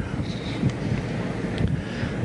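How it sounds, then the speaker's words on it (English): Wind buffeting a microphone, a low rumbling roar with gusty swells, fairly faint, with a hint of water in the background and no talking. "Pretty windy day."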